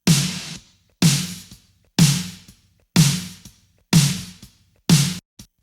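Live rock drums in a 1980s rock style, with a thuddy low-end parallel bus blended under the kit: six punchy, evenly spaced kick-and-snare hits, each decaying quickly, played alone and close.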